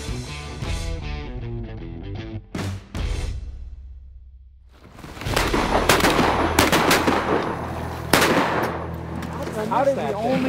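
Shotguns fire at ducks during a hunt: several sharp, loud blasts crack out in an irregular volley, some close together, with hunters' voices talking between the shots.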